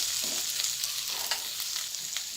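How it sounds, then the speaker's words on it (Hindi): Potatoes and spices cooking in a pan over a low flame for samosa filling, a steady soft sizzle with faint intermittent scraping of stirring, close and even throughout. "अब हल्की आंच पे इन सब मसालों को 3 से 4 मिनट तक पकाएंगे आलू में।"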